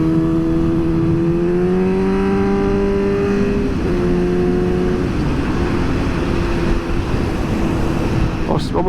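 A Suzuki GSX-S 750 motorcycle with aftermarket headers revs hard and throaty, its pitch climbing and dropping over a constant loud rumble, close by with no pause.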